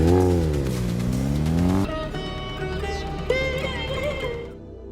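Motorbike roaring away in a film chase, a loud revving engine that climbs in pitch, drops after a gear change, then rises again with tyre noise as it pulls off and fades.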